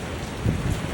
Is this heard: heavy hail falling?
yes